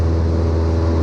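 Light aircraft piston engine at full power, 2,500 RPM, during a climbing turn after takeoff from Duxford, UK; a steady, loud, continuous drone with a deep low hum fills the cabin, with no voices.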